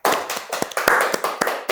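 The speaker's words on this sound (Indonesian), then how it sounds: "Tepuk tangan dulu untuk Pak Saleh." A few people clap close by, a quick uneven burst of handclaps lasting under two seconds.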